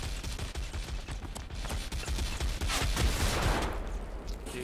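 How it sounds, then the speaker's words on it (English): In the video game Warhammer Vermintide, a chain gun fires in a dense, continuous rattle of rapid shots that stays loud and up close for the whole stretch, with no talking over it. "Now it's one with a chain gun."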